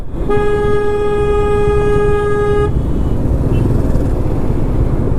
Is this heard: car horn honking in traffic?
yes